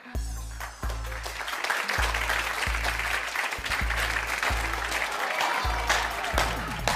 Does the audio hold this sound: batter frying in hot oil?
no